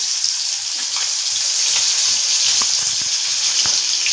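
Steady, loud sizzling of snakehead fish frying in hot oil, a continuous hiss with occasional small pops and crackles.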